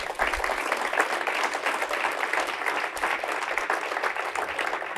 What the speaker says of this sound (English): These two men, give them applause.